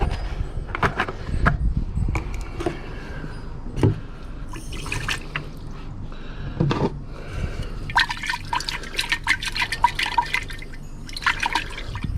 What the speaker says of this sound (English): Well, I'm still rinsing it